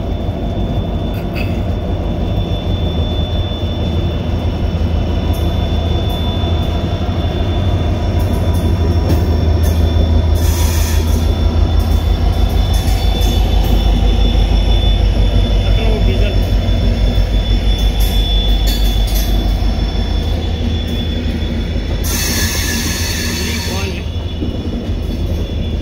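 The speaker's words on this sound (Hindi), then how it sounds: "ये कौन सी ट्रेन देखते हैं" A train passes on a railway line near Churu with a loud, sustained rumble of wheels and wagons. Two bursts of high metallic wheel squeal break through midway and near the end.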